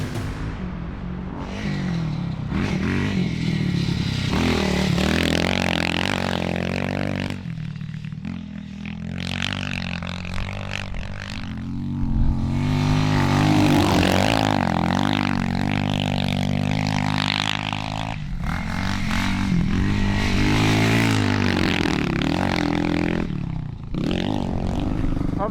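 Vintage ADB Avenger four-stroke dirt bike ridden on a track, a loud, close engine droning and revving up and down through gear changes, with rattling and scraping mixed in for a sustained stretch.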